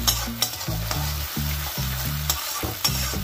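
Tomato puree is stirred into frying aubergine for begun bahar, with a spoon scraping the pan in a steady rhythm of repeated strokes over a constant close sizzle, and no talking.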